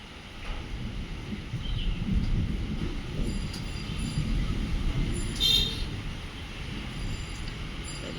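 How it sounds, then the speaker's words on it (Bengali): A low, continuous rumble of distant thunder rolls on for several seconds, steady and heavy in the low range, with faint higher noises over it; no voices. "দেখছো কেমন মেঘ ডাকছে।"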